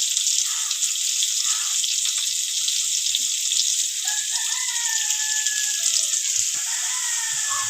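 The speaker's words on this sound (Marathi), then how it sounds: "कांदा आपण मस्त परतून घेऊ आता" Onion sautés in hot oil with garlic, mustard seeds and cumin while bell pepper curry is cooked, giving a loud, steady, close hiss of sizzling throughout, with a few faint scrapes and no speech.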